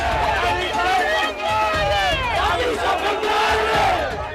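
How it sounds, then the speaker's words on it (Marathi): Party workers crowd outside a politician's house, chanting slogans loudly in unison; rising, sweeping voices and shouts carry continuously over a dense crowd murmur throughout. "राजन साळवी यांच्या घराबाहेर कार्यकर्त्यांनी मोठ्या प्रमाणावर गर्दी केली तसंच जोरदार घोषणाबाजीही केली"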